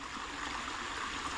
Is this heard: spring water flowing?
yes